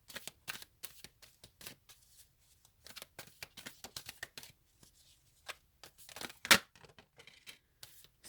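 Tarot cards shuffled close up in a long run of soft, rapid riffling bursts, broken by short pauses and one sharper slap of the deck, with no voices.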